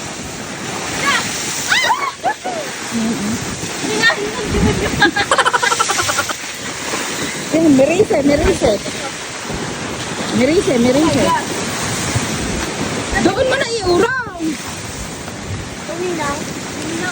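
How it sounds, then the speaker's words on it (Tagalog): Loud, continuous rush of large waves breaking on the shore of Taal Lake, roaring water throughout, with people talking and calling out over it. "tingnan nyo kung gaano kalalaki ang alon"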